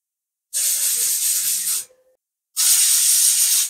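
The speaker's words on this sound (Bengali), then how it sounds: "প্রথমে একটা সিটি পড়লো" A pressure cooker cooking chicken curry with potatoes and papaya lets off two loud, sharp steam whistles, each a hissing blast over a second long, separated by a short silence.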